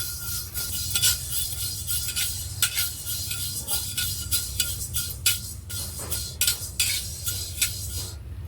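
Fenugreek seeds roasting dry in a pan, with a constant low hum beneath repeated close scraping and light clinking of a spoon stirring against the metal.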